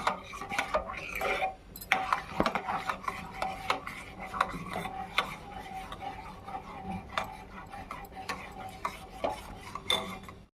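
A spoon stirs a thickened milk mixture for kulfi in a pot with continuous scraping and rubbing strokes against the metal, quiet and close, with occasional clinks.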